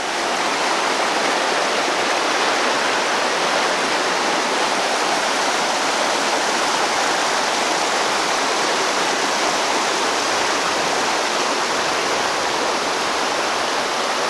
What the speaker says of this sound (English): We're crossing over the Wasatacook Stream.